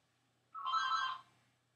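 A single short phone ring sounds indoors, a bright electronic trill lasting about half a second before cutting off into near silence.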